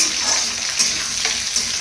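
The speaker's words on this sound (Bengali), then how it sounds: "কাঁচা লঙ্কা দিয়ে কালো জিরে দিয়ে আলুগুলো একটু ভালো করে আমি নেড়ে নিচ্ছি।" Potatoes stir-fried with green chili and nigella seeds hiss loudly in the pan, a steady close sizzle with faint scraping as they are turned.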